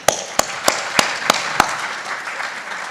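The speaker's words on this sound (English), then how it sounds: "Can I get a round of applause for everybody?" Short burst of audience applause at a university inaugural lecture, a dense crowd patter with a few sharp individual claps standing out, fading over three seconds without talk.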